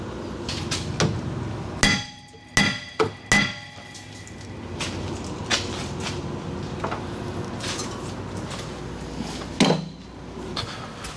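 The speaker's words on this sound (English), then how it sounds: "I need a bigger hammer." Metal hammer blows ring out on rusted truck suspension during a brake job, a few sharp strikes spaced unevenly among quieter workshop clatter, close and loud.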